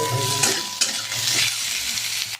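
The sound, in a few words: dry-roasting cumin, peppercorns, coriander, chillies in a dry wok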